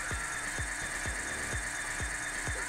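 Safe drill grinding away in Payday 2, a quiet, steady whirring hum with regular thumping knocks about twice per second, repeating evenly throughout with no talk.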